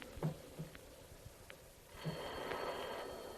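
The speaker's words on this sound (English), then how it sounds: "You start at the jangle of the phone that echoes through the high rooms" Old telephone jangling in a radio drama, a burst of ringing bell tones that swells near the end over a low storm ambience with faint thumps.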